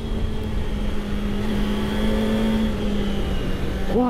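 Steady Kawasaki ZX25R sport motorcycle engine drone with a sustained tone and a quick rising rev near the end, loud and close, with no voices.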